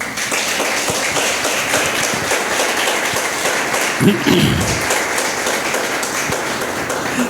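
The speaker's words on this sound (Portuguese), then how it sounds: "Aplauda Jesus aí." Church congregation claps for Jesus at a sermon, a loose, continuous patter of hands across the room with a brief louder thump midway and no speech.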